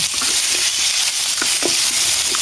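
Chicken feet for adobo fry in a pan with soy sauce, producing a loud, constant sizzle broken by a few soft stirring clinks and scrapes, with no one speaking.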